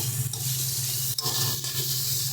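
Water pouring into a pan of aloo posto, a Bengali potato and poppy seed curry, giving a steady close rushing splash with a low hum underneath, continuous and fairly loud throughout with no talking.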